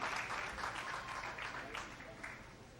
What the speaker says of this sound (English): Spectators and guests, let's give these finalists a round of applause as they begin their no elimination match